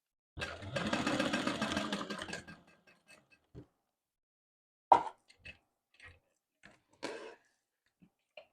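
A sewing machine back stitching a tote bag, one short whirring run of about two seconds followed by scattered clicks and small handling taps.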